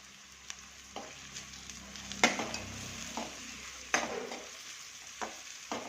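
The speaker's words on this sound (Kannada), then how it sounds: "ಈಗ ಹಸಿಮೆಣಸಿಕಾಯಿ ಹಾಕೊತೀನಿ ಎರಡು ಕಟ್ ಮಾಡಿದ್ದೀನಿ ಹಸಿಮೆಣಸಿಕಾಯಿ" Cut green chillies frying in a pan, a soft continuous sizzle with occasional stirring clinks and scrapes, close and moderately quiet, no talk.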